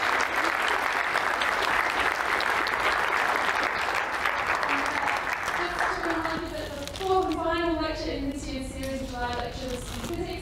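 Audience applause after an evening quantum chemistry lecture, dense and steady for about six seconds, then fading as a speaker starts talking over the last claps.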